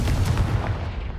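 A Confringo spell fired in Hogwarts Legacy, making a dense, booming blast with a rough crackling tail that fills the whole moment, loud and close, with no talking.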